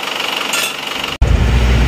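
An engine runs steadily with a fast rattling pulse on a road test after a cylinder liner replacement, briefly cutting out before resuming louder and deeper.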